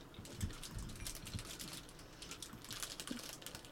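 A computer keyboard's keys clatter in quick, uneven bursts of sharp, close clicks, steady across the few seconds during Minecraft Pixelmon play, with no voices.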